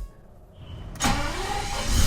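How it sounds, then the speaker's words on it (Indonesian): Quiet at first, then a BMW V12 car engine's starter cranks hard, a steady, dense whirring grind that holds to the end, recorded near the hood. "itu sebenarnya macam suara starter truk"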